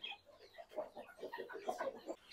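A rooster gives soft, repeated clucks and low calls close by, a steady run of short bursts with no talk over them.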